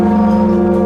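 A bell from the video game Limbus Company rings once, loud and close, a sustained metallic tone with rich steady overtones held for under a second.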